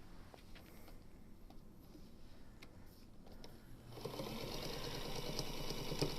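A Featherweight sewing machine stitches quilt pieces, its steady mechanical whir running continuously and growing louder and denser over the last couple of seconds, with no talking.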